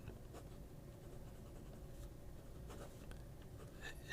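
A Montblanc Le Grand Solitaire fountain pen scratches faintly across paper in short strokes, quiet and close, with small breaks where the nib skips.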